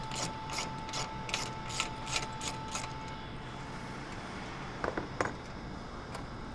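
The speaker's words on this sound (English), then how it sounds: "next we're going to remove the factory airbox by loosening this 13mm bolt to the front support" A ratchet loosens the 13mm bolt on the front support of the factory airbox of a 2010-12 Dodge Ram Cummins 6.7L. Quick bursts of close, crisp clicking come first, then a pause and two shorter click bursts.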